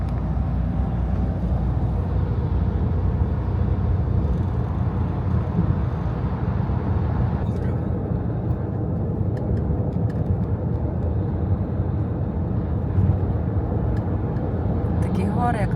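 A car drives through a series of road tunnels on an Italian motorway, with a steady loud engine and road roar that shifts slightly in tone partway through, as if entering a new tunnel section.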